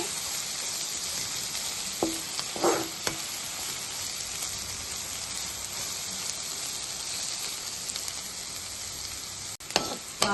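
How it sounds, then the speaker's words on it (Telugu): Amaranth leaf curry (thotakura fry) sizzles quietly in a pan over a medium flame, a faint steady crackle with a few brief clinks of stirring and no talking. "స్టవ్ మీడియం ఫ్లేమ్లో పెట్టుకుని మనం ఇలాగా కూర ఫ్రై చేసుకోవాలి"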